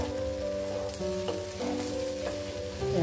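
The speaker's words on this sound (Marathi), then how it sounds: "आतमध्ये घालूया कोथिंबीर आणि छान परतून घेऊया एकदा." Bread breakfast with coriander sautéing in a pan gives a steady sizzle and frying hiss. Soft stirring scrapes recur every second or so, close up and without talk.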